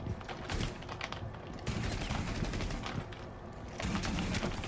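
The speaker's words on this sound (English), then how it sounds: "I burst fire with this thing" Short bursts of rifle fire from Rainbow Six Siege, rapid clustered shots repeating in spurts, fairly faint and fairly close, with no talking.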